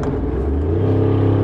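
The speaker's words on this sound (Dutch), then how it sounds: "Hier, even de uitlaat open." A car engine revs with its exhaust opened, a deep, loud, throaty drone that holds steady and swells slightly.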